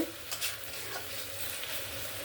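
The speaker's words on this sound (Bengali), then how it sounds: "আদা আর জিরে বাটাটা দিয়ে আমি ভালো করে কষিয়ে নিয়েছি ঝিঙ্গার আলুর সঙ্গে" Ginger-cumin paste frying with ridge gourd and potato in a pan for a light fish curry, a continuous close sizzle with spatula stirring strokes scraping through it, no voices.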